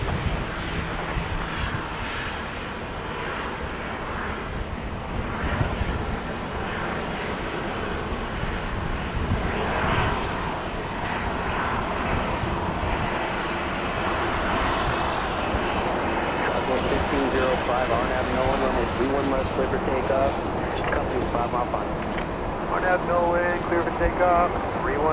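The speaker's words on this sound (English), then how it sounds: "we've got flight 1623 Southwest Airlines at MAX 8, and it will be bringing in some passengers" A Southwest Airlines Boeing 737 MAX 8 arrives at Dallas Love Field with a steady, broad jet engine roar that holds throughout, moderately loud and slightly distant, while people talk over it.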